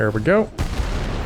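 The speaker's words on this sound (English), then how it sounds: "that was a bomb right underneath us there" Bomb exploding right beneath an Fw 252 aircraft in World of Warplanes: a sudden loud blast bursts in after a brief spoken remark, then rolls on as a sustained roaring rumble.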